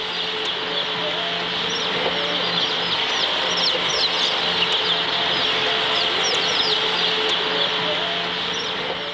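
A crowded battery farm full of hens clucking and squawking continuously, a dense, loud chorus of many birds over a steady mechanical hum.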